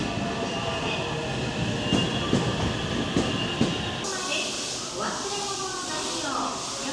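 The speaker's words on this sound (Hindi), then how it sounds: "ये देखिए ट्रेन, ये ट्रेन है जी यहाँ की।" A local train in Hiroshima, Japan rumbles and clatters at a station with rhythmic rail clicks, then its noise shifts to a brighter hiss and whine as someone talks over it throughout.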